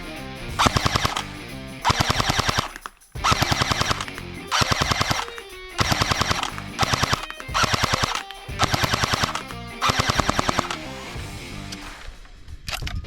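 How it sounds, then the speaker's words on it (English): An AGM airsoft Sten SMG fires loud, close bursts of rapid BB shots, roughly eight bursts in a steady rhythm separated by short pauses, with no talking. "now let's get into some actual test firing of this SMG"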